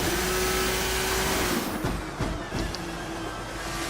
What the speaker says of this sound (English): Downshifting into second gear, exiting turn 1.